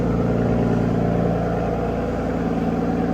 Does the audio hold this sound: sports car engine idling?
yes